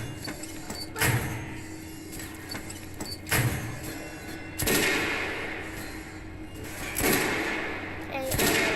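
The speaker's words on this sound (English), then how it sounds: "Buckshot firing heavy machine gun now." A buckshot-firing heavy machine gun in Metro: Last Light Redux booms in single heavy blasts about every second or two, loud and close, while someone talks throughout.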